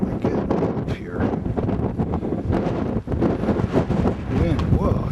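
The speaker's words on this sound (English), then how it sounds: "Wind, whoa, it just blew my head off." Strong wind buffets the microphone on a mountain bike trail in Topanga Canyon, a loud, continuous roar with gusty swells and a brief dip midway, while a man calls out over it.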